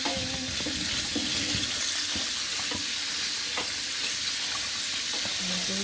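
Running tap water rinses asparagus under a steady, loud spray, with occasional small clinks and handling noises close by.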